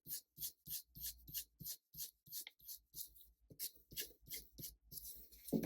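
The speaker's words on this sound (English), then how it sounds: "So now I'll use the 14B pencil." A 14B pencil draws rapid circular strokes on paper to shade a 3D shape, a steady run of close, dry scratching bursts, each rub separate and even in rhythm.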